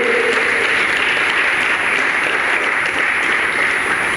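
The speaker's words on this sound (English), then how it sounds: "The doctor, you will clap for him." An audience claps for a doctor at a gathering in Brindavan. The applause is dense and steady and holds at full volume for the whole stretch, with no voices over it.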